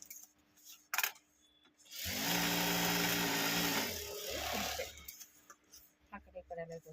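A sewing machine stitches a cloth pouch made from waste fabric, a loud continuous mechanical whir running steadily for about three seconds and then tapering off, with quieter handling sounds before and after.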